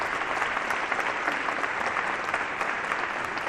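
Audience in a church applauding during a Christmas celebration, a thick, even wash of clapping sustained throughout at steady volume.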